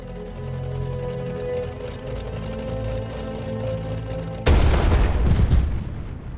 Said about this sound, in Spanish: El primer cañón de la Segunda Guerra Mundial se dispara en Danzig.